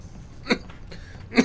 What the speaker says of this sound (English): Coughing. Sorry.